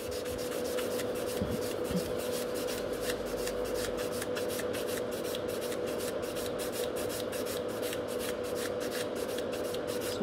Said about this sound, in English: So I'm just buffing this nail.